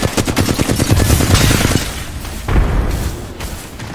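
A frag grenade blast and gunfire in a first-person shooter video game: rapid loud bursts of automatic fire, then a booming explosion, all close and dense.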